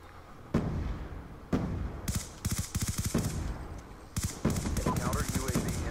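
Black Ops 2 multiplayer gunfire, with several sharp shots and rapid automatic bursts that come close and loud in short clusters over game ambience.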